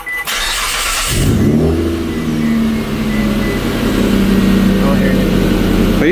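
A Mitsubishi Eclipse GT with newly installed RRE headers fires up and revs, a loud close engine roar swelling and settling into a throaty, deep idle rumble, with voices briefly audible near the start.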